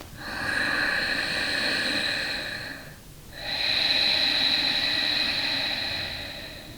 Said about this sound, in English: We breathe only through our nose for yoga. Inhale and exhale.